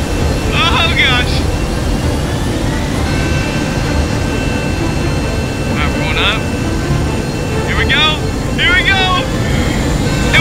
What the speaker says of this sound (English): And then Forge Dark Souls, he actually built a fighter jet. And so I took it out for a test flight.